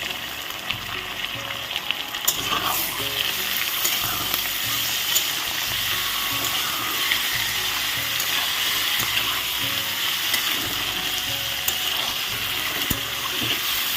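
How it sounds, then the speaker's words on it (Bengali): Pieces of meat fry in hot oil after a spice tempering, giving a steady, dense sizzle that holds at an even level the whole time, with no voices over it. "দেখো মাংসটা আমি ভালো করে ভেজে নিলাম, এগুলো তেল বের হয়েছে।"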